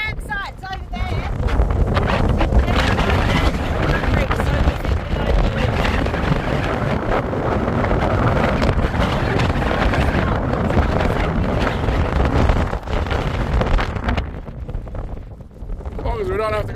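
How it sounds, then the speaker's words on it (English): Heavy wind gusting across an open campsite in South Australia, a loud sustained roar and microphone buffeting that swells and eases, with brief voices at the beginning and end. "A bit windy."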